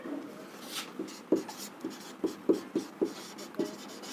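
Chalk or marker taps and scratches as numbers are written on a board during a maths lesson, a run of short, sharp strokes in an irregular rhythm with no speech.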